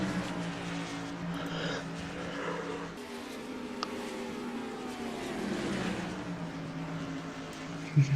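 Stock race cars at Irwindale speedway, a continuous distant roar of engines with passing cars rising and fading, heard at moderate level without clear speech.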